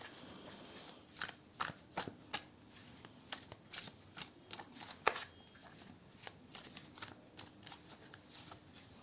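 Tarot cards are shuffled close by, producing a run of quick, crisp riffling snaps and slaps in irregular bursts over a quiet background, with no voices.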